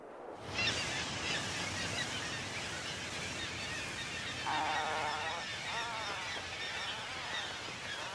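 A dense seabird colony on northern Pacific breeding islands, a continuous loud clamour of overlapping honking and squawking calls that swells in places, with no voices.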